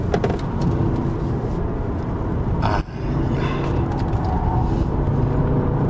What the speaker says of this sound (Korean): 코너 앞두고 속도를 좀 쭉 끌어올리고요, 쭉 끌어올렸습니다.